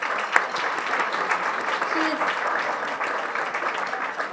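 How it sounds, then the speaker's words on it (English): Warm round of applause from an audience at a gathering, steady dense clapping filling the whole stretch at moderate level with no one speaking over it. "So I just wanted to say, to give Jane a warm round of applause and say thanks for all her efforts"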